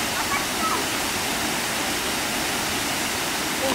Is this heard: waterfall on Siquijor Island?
yes